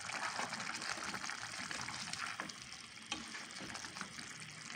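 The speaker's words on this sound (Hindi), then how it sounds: "अब इसके बाद हम इसमें शिमला मिर्च शामिल कर रहे हैं, और फिर इसके बाद हम इसे और भी सालों को अच्छे से भून लेंगे।" Balti ghosht with capsicum frying in a pan, a soft steady sizzle with faint stirring and scraping, quiet and close, with no voices.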